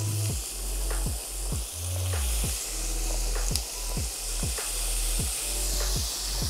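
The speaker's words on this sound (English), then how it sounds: "listen, can you hear the sizzle?" Chicken yakitori skewers sizzle steadily in a lightly oiled pan, a close, continuous frying crackle with a low hum and regular soft clicks running underneath, no voices.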